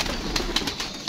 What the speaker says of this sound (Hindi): कबूतर हम पैक करने लगे हैं